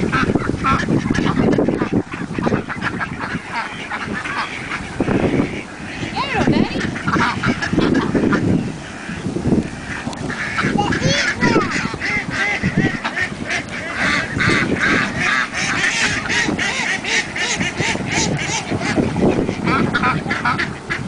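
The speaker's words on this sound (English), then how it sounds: "the ducks are very hungry" Hungry ducks crowd close after Hurricane Ike, quacking and honking constantly in a dense, loud chorus of overlapping calls, with a voice occasionally heard beneath.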